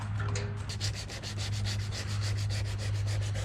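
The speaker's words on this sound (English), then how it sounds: "I'm going to sand to this line" Steady, rhythmic strokes of sanding on the surface of a Hobie Pro Angler kayak, each rasping pass close and loud over a constant low hum, with no voices.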